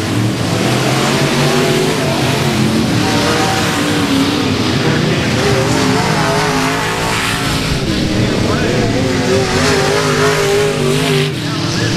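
Race cars lapping the I-37 Speedway oval, a loud continuous roar of engines with revving and tire noise, under an announcer's fast race commentary.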